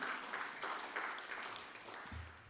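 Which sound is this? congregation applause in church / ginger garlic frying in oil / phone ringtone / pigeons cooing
congregation applause in church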